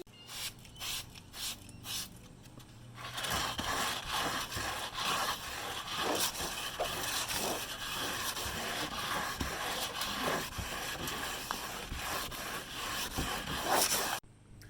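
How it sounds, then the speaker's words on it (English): Wet sanding of a VW campervan's body with 400 grit wet/dry sandpaper: a steady, close abrasive rubbing and scraping that runs continuously with uneven strokes, after a few sparse knocks and rustles at the start. "Now we're gonna do some wet sanding."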